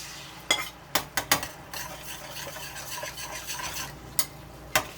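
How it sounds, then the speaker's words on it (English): Eggs being scrambled in a pan with a beef mixture for homemade dog food: a utensil scrapes and clacks against the pan in several sharp knocks, over a steady soft sizzle and stirring, close by with no talk. "you're going to want to immediately start scrambling the eggs"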